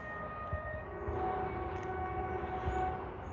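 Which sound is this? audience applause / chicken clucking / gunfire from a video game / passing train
passing train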